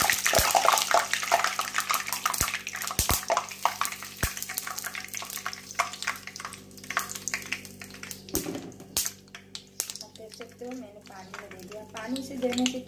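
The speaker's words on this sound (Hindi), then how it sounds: "एक बाटी में मैंने पानी लिया है और उसमें दे दूँगी।" Hot fried dahi bara dumplings drop and slosh into a bowl of water among clinking utensils and splashing, close and busy, with someone talking intermittently over it.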